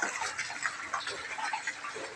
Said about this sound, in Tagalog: Binuhos na ng mandirigma ang muriatic